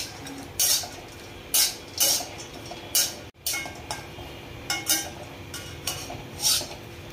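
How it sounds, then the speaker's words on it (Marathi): Dry coconut roasting in a pan with no oil, a metal spatula scraping and clinking against the pan in short, irregular bursts over a quiet, steady hiss. "त्यानंतर त्यामध्ये सुकं खोबरं भाजून घ्यायचं, तेल टाकायचं नाही, कोरडंच भाजून घ्यायचं"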